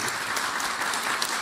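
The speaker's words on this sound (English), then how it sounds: "We can really clap, absolutely." Sustained audience applause at a panel discussion on European strategic infrastructure, a steady dense wash of clapping filling the whole moment with no pauses.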